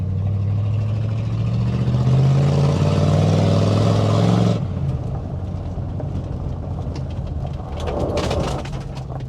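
A 1964 Chevrolet Impala, with new wheel cylinders and fresh brake fluid after sitting for some 30 years, drives along. Its engine hums loud and close for several seconds, then drops to a softer, steady running note.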